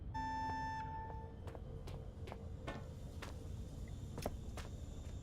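Electronic beeping sounds from within the horror game Penumbra, a few steady tones at first, followed by scattered clicks and taps over a quiet background.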